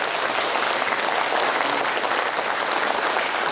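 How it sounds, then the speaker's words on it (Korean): Dense, sustained applause from a crowd honoring former lawmakers at a Korean political book launch event, loud and even throughout with no pauses. "박수를 부탁드립니다"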